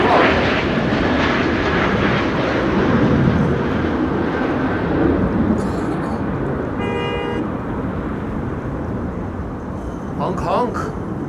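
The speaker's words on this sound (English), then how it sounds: "Oh, is that the black jet leaving again?" Black business jet taking off at Amsterdam Schiphol Airport in high winds, a broad steady engine roar holding loud through the whole stretch with wind noise and a short honk-like tone mixed in.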